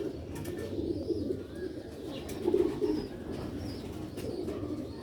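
Sialkoti pigeons with red pearl eyes coo in low, murmuring phrases running through the whole stretch, faint and steady against background noise.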